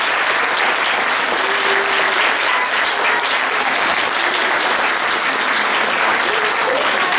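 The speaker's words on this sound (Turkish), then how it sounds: "alkışlıyoruz" A dense, loud ovation fills the hall as the audience at a school play applauds the performers and parents, many hands clapping continuously and evenly with no break.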